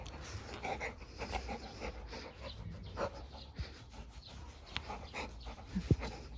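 A Labrador dog panting close by in quick, soft breaths, with a faint whimper and brief rustling near the end.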